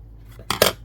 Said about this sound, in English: I'm going to cut a piece off.